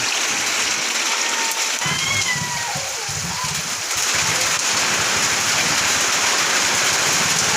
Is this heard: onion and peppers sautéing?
no